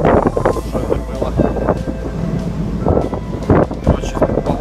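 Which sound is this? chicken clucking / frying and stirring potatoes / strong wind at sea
strong wind at sea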